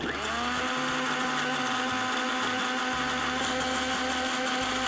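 A mixer grinder blends tomatoes for soup in a steady, loud motor whine with a droning hum for about five seconds, no voices.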